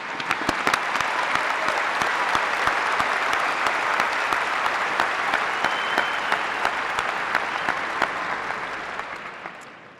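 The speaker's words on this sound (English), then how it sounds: "I think you all can get one more round of applause" A large crowd at a graduation ceremony applauds steadily for the whole stretch, dense clapping that stays loud and even before easing slightly at the end.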